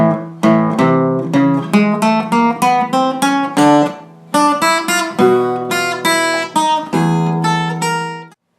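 Guitar playing the piano lead-in notes from a song, a rhythmic run of plucked chords and single notes struck in steady succession, clear and close with no talk.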